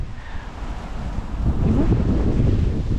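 Strong wind buffets the microphone outdoors, a low rushing roar that swells into heavier, gustier blasts partway through, with no voices heard.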